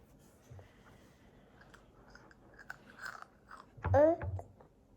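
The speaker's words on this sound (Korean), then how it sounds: "그거 꼭꼭 씹어서 먹어" A child chews food at close range, with faint soft mouth sounds early on that build to a louder, wetter burst of crunchy chewing near the end, while a voice briefly sounds alongside.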